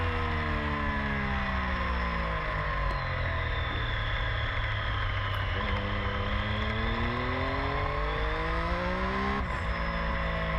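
A Suzuki Bandit GSF 600 motorcycle at speed on the Pembrey race track: its engine drones steadily and loudly throughout, with the pitch rising and falling through gear changes and no talking.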